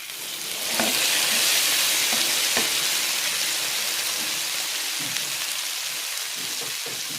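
An omelette cooks in a frying pan with a loud, steady crackling sizzle close by, broken by a few soft taps and scrapes of a spatula.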